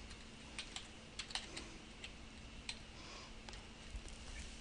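Fingers typing on a computer keyboard produce scattered, light key clicks in irregular bursts. They sound close but fairly quiet over a faint steady hum, with no talking.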